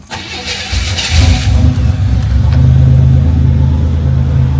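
A 1987 Buick Grand National's turbocharged 3.8 liter V6 cranks and catches, then settles into a loud, steady, rumbling idle heard close up without talk.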